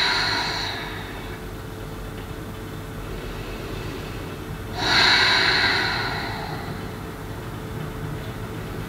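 Two long airy breaths during a yoga session, a deep exhale fading at the start and another close, loud breath swelling midway then slowly trailing off, with no talking.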